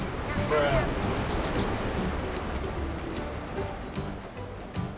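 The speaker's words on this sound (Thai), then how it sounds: "ดูดิคลื่นมันเข้าไปซัดห้องรับแขกเราเรียบร้อยแล้ว" Tsunami waves crashing in Disaster Island video game, a broad continuous roar of surging water that fades slightly over time, with faint splashes near the end.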